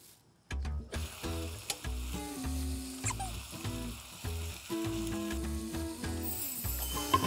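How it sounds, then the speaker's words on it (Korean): Pork belly fries in a pan with a steady, close sizzle and crackle, broken by light scraping and clinks as the meat is stirred and turned. "아 삼겹살 구워야지."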